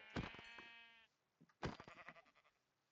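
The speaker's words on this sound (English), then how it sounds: "Oh, sheep!" Sheep in the video game Minecraft give two clear close bleats, the first a long wavering cry and the second a shorter stuttering one after a brief gap.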